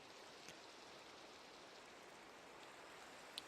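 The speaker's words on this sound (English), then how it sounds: "I hear rain" Steady rain in Minecraft, a soft, even hiss of falling water that holds at one level throughout, with a faint tick or two near the end.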